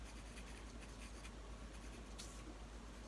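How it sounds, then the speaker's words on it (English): A pencil sketches lines on paper, giving a soft steady scratching close by with no talk, and one brighter stroke near the end. "I'm just kind of sketching it out."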